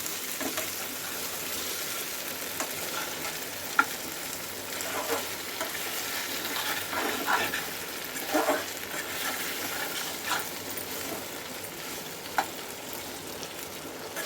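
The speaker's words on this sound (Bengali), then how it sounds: "পুরো তেল ছেড়ে গেছে মাংস থেকে আলু থেকে একদম কষানো হয়ে গেছে লাল লাল করে" Country chicken and potatoes frying in oil in a home kitchen, a steady crackling sizzle running throughout at moderate level with occasional louder pops and stirring scrapes.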